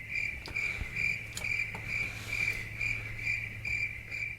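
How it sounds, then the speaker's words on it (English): Steady cricket chirping in a quiet setting, a continuous high trill pulsing in regular bursts about twice a second, with a faint low hum beneath and no voices. "Wow, crickets."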